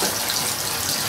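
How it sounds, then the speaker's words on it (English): A cold kitchen tap running hard during home beer brewing: a loud, close, continuous rush and splash of water with no voices. "switch the cold tap on."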